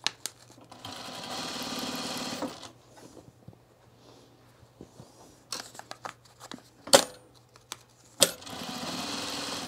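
A sewing machine stitches through paper and fabric for a small bowl. Two sustained runs of rapid, close mechanical whirring are followed by short clicks, stops and brief bursts of stitching.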